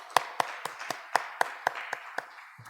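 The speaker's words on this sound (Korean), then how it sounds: "여러분들에게 박수를 보내드립니다" A small church congregation clapping during a Sunday worship service, about ten spaced, rhythmic claps heard close and fairly quiet, without voices.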